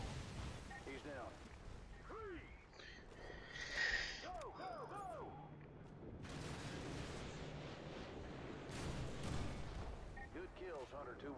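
Call of Duty Modern Warfare battle with rolling artillery fire and gunshots, dense layered blasts under steady combat noise, with radio voices talking over it.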